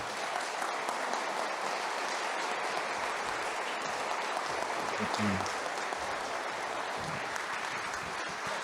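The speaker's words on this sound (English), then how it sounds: "please, a round of applause for Ian Callum" Audience applause for car designer Ian Callum at a live podcast recording: a dense, steady wash of many hands clapping together, sustained at even loudness for the whole stretch, with a few faint voices and stirrings mixed in near the middle.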